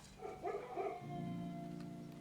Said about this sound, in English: I hear dogs. Why do I hear dogs?